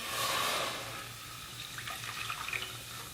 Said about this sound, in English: in a small saucepan, not a saucepan, but a saucepan, we want to add 12 ounces of Coca-Cola